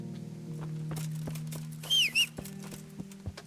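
A horse approaching in a medieval video game, with hollow hoof clops spaced over a low steady drone, a brief chirping bird call partway through and a few scattered thuds.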